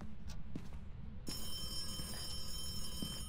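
A telephone rings inside the horror video game Phasmophobia. After a quiet second, a steady electronic ring starts and continues on its own with no talking.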